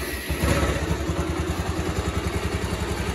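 A Bajaj Pulsar 150 motorcycle engine idles after a crank replacement, with a close, steady rhythmic thumping and light mechanical clatter, running alone and evenly throughout.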